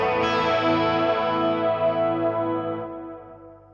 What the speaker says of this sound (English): if I add the delay and the vibrato on the wet side and keep the Princeton